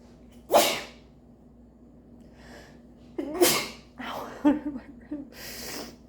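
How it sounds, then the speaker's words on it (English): A single loud, sharp sneeze close to the microphone, followed by a few sniffs and breathy gasps in an otherwise quiet room. "Hold on, I gotta sneeze."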